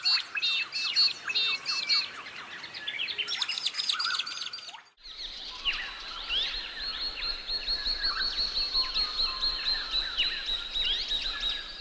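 A large black crow-sized bird with a decurved bill and deep red eye calls in rapid chattering, squawking bursts, close and loud, breaking off briefly midway before a long run of repeated rhythmic calls.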